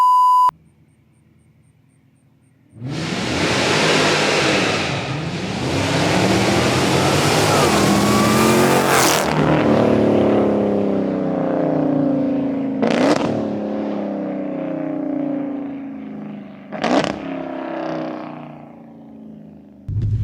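A 924-horsepower supercharged V8 in a Dodge Charger Hellcat snarls through long, heavy revs, then settles into a rumbling idle punctuated by a few sharp throttle blips, close and loud.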